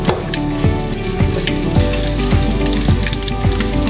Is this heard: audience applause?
no